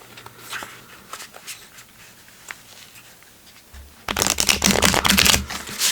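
Soft card flicks and taps for several seconds, then a dense, louder riffling burst as a matte-finish Moon & Stars tarot deck is shuffled close by.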